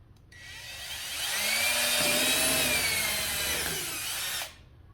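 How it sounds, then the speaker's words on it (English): A power drill drilling out rivets on a Jeep Gladiator rear fender spins up and whines steadily for about four seconds at close range, its pitch dropping slightly as it bites, then cuts off. "Then we're going to drill these two rivets out here."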